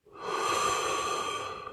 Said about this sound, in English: Her grandmother's breathing.